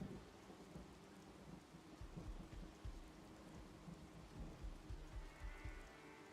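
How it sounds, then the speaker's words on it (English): Rain falls steadily in a video game, a soft, faint patter with low rumbling underneath and no voices. "It seems to be raining all the time."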